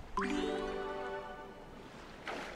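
Water poured onto a withered rose in the Paper Mario Origami King video game: a short bright magical chime with rising tones, then soft liquid dripping and a faint splash at the end.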